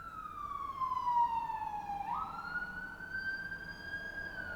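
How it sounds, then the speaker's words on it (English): An emergency vehicle siren passes outside, a single wailing tone that slides down, then jumps and rises again, heard at moderate distance over faint background hum with no talking. "Is that another siren?"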